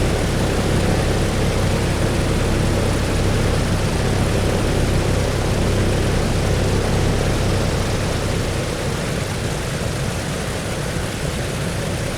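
Propeller aircraft engine running in a 1948 Berlin Airlift flight simulator game, a loud, steady drone with a dense, rumbling roar that holds constant without a break and eases only slightly near the end.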